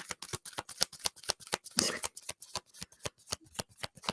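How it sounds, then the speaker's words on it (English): Tarot cards riffle-shuffled in a quick, steady run of crisp flutters, close and fairly soft, with one longer burst of riffling midway and no talk over it. "while I'm shuffling"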